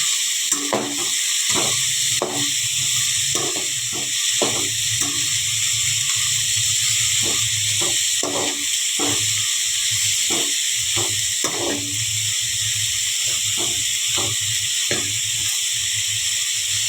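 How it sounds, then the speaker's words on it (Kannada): Onion frying in oil in a pan for egg bhurji gives a steady close hiss, broken by frequent sharp crackles and pops at an irregular rhythm. "ಎಣ್ಣೆ ಉಳ್ಳಾಗಡ್ಡಿ ಹಾಕೊಂಬ್ರಿ. ಸರಿಯಾಗಿ ಫ್ರೈ ಮಾಡಬೇಕು."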